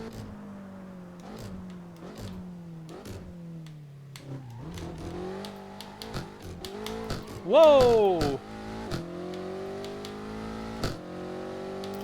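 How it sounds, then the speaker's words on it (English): Rear-wheel-drive car engine in a racing video game revving through repeated gear changes, with a steady rising and falling tone, a brief louder surge midway, and a short exclaimed voice over it. "Really fun to drive those RWD cars."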